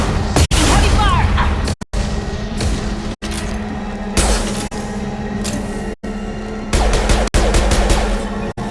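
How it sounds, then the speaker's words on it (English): Heavy gunfire in a video game, dense loud volleys and repeated shots filling the scene, broken by a few abrupt cuts, with voices calling out over the shooting. "Heavy fire!"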